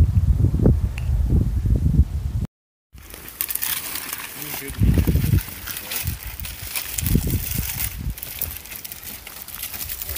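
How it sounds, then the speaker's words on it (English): Strong wind buffets a microphone on an open hilltop during an outdoor bushcraft outing, a loud broadband rumble in bursts and gusts that continues after a brief dropout, with people talking faintly under it. "Sorry about the wind, guys"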